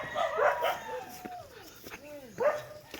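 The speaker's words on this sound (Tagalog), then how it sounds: "may aso, may aso." A dog barks outdoors in a few yelping, whimpering bursts, moderately near, mixed with people talking in the background.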